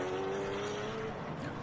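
Race cars running on the track at Mid-Ohio in a TA/XGT/SGT/GT race, heard as a steady, fairly distant engine drone with a rising whine, continuous and low in level.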